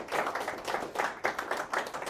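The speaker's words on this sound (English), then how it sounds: "Another big round of applause, well done." A room full of people claps together in a round of applause, a dense, steady patter of many hands, fairly close and lively, with rhythmic swells throughout.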